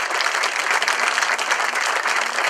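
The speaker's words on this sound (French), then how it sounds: "Je souhaiterais qu'on les applaudisse vraiment." Loud, dense applause from an audience at a blues party evening event in L'Isle-d'Abeau, a continuous wash of many hands clapping steadily throughout.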